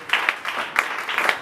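Church congregation clapping during a worship service, a steady moderately loud patter of many hands with a few sharper bursts standing out, no talk over it.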